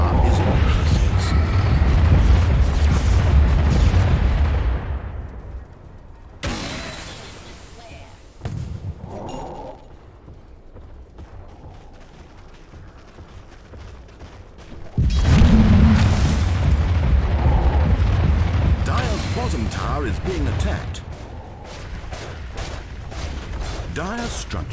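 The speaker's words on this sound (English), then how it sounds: "Dire's bottom tower under fire." Explosions and attack impacts battering a tower during a professional Dota 2 match, long dense stretches of loud booming combat with quieter gaps between, and a caster talking throughout.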